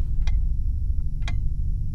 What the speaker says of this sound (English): Hear a ticking.